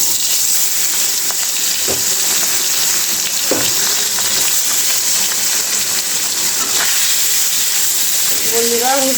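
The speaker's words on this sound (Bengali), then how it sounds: "আলু ভাজা কড়াইতে আমি মাছগুলি ভেজে নিব।" Shing fish fry in the same pan just used for potatoes, a constant close sizzle with occasional sharp pops and spatters, no voices over it.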